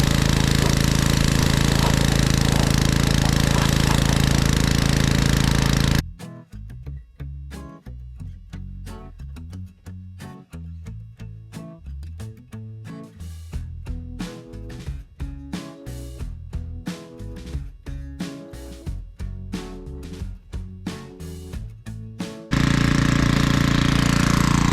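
A pressure washer blasting a 1970 Chevelle engine block: a loud steady hissing spray, then a long stretch of choppy sputtering bursts as the jet strikes the metal, before the continuous roar returns, all close and with no talk.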